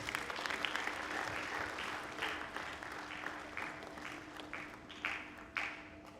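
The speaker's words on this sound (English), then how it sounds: "A big round of applause from him." Audience applause for a board chairperson being welcomed at a formal ceremony, a steady patter of clapping with several sharper bursts from nearby hands, carrying on without a break for about six seconds.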